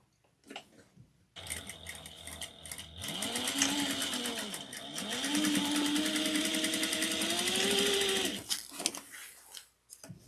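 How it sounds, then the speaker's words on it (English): A sewing machine stitching the boxed corners of a fabric handbag at a 3/8-inch seam, running in a steady whirring buzz for several seconds with a pitch that rises and dips, preceded and followed by brief handling clicks. "we're going to box these corners real quick. We're going to sew them at 3/8 of an inch"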